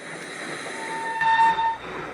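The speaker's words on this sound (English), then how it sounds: "Just then, she heard a whistle." A train pulls into a station as a steam whistle sounds, a clear sustained tone rising over the rumble of carriages rolling in, close and fairly loud, then fading as it settles.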